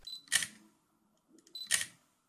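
Olympus Pen F mirrorless camera shutter fired twice, each a sharp close mechanical snap with a brief whirring lead-in, separated by a short quiet gap, heard alone.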